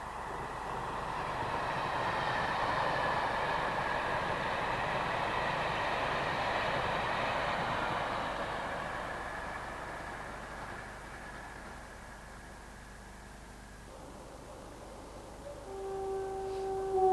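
A cross-country train runs along the Oxford line past the listener, a broad rumbling roar that swells, holds for several seconds, then fades, with a faint steady tone near the end.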